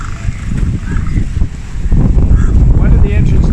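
Wind blows hard at a seaside fishing port in Galle, Sri Lanka, with close, heavy low rumbles of gusts buffeting the microphone that swell and ease and grow stronger toward the end.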